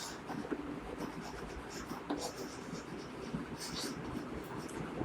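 Chalk or marker scratching across a board during a class 8 percentage lesson, continuous close scraping and tapping strokes with room noise and a little faint talk.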